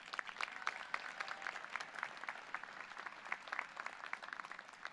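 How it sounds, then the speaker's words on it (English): Applause from a commencement ceremony audience at a university, many hands clapping in quick scattered bursts, faint and distant, continuing steadily for about five seconds. "Can we give them one more big round of applause?"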